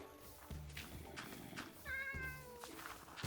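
A kitten meows repeatedly in the video game Elendor, with several short, clear mews over steady game background sound and no talking.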